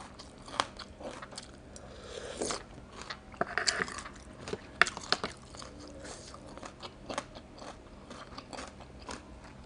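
Raw bitter gourd bitten and chewed close to the mouth, giving quiet, irregular crunches and crisp cracks over faint background hiss.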